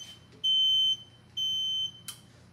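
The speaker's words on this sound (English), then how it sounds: "So you can see the low gas light flashing and hear the alarm." A large animal ventilator's low gas alarm sounds two steady high-pitched electronic beeps, each about half a second long, close and loud over a faint low hum.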